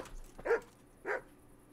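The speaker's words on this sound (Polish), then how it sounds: "Piesku, zacznij szczekać." A dog in the medieval video game Kingdom Come: Deliverance gives two short, moderately faint barks about half a second apart, over a quiet background.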